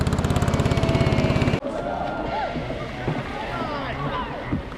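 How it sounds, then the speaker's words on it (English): A speedboat ride on a river in Hoi An: a loud rhythmic engine throb, then a sudden shift into rushing wind and water noise with chatter and voices in the background. "And so we are going by a speedboat."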